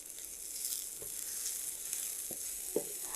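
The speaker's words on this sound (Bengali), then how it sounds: "পেঁয়াজটা আমি খুব বেশি ভাজবো না, এটা প্রায় ভাজা হয়ে গেছে" Onions fry in a pan with a soft, steady sizzle, fairly quiet and close. A few light utensil taps and scrapes come through.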